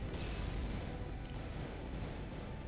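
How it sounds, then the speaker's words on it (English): Rocket strike on a battleship in a naval combat video game: a dense, continuous barrage of rumbling booms and crackling impacts, loud and sustained throughout with no pauses. "Rocket Strike attempt on the Battleship."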